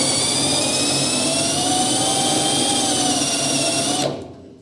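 A power drill bores slowly into a double-layer steel body panel of a Ford Cortina, a loud sustained high-pitched whine that holds steady for about four seconds, then cuts off abruptly.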